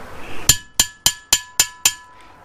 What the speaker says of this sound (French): il faut lui donner avec le marteau à garnir